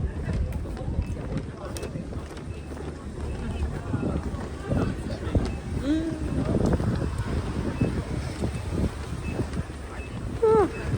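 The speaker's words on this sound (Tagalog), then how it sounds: "Humahangin pa siya, kaya sobrang lamig niya." Wind gusting along a cold Boston shopping street, a steady low rumble and buffeting on the microphone throughout, with passersby and street bustle faintly underneath.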